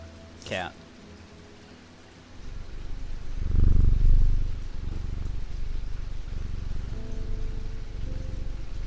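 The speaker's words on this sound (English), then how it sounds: "Cat." A soft, steady cat purr from a video game demo, rumbling continuously beneath rainy, hissing ambience after a brief high chirp at the start, swelling briefly then settling.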